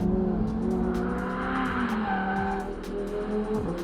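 A Lamborghini Huracán Sterrato's mid-mounted, naturally aspirated 5.2-litre V10 of roughly 600 bhp roars loud and steady under hard driving, its harmonic engine note shifting pitch as the tyres squeal and skid.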